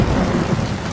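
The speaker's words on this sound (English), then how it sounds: "I wouldn't be able to sleep. With the rain noises." Steady rain with low rumbling thunder in a tense outdoor scene from The Last of Us TV series, a continuous loud wash of downpour and deep rolling rumble filling the whole moment without any voices.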